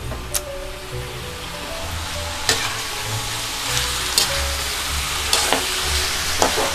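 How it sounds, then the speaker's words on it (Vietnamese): Vegetables and meat stir-fried in a pan for a Vietnamese noodle soup, a continuous loud sizzle with occasional sharp clicks of a utensil hitting the pan, close by, no speech. "mình xào cho nó săn lên"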